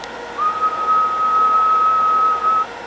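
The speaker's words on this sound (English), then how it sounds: "Maybe if I whistle." A single steady whistled tone held for about two seconds, clear and close, used as a test sound for a microphone, with no talking.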